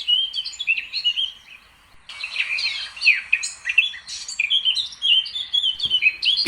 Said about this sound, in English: Blackcaps have a lovely melodic song and have been compared to nightingales.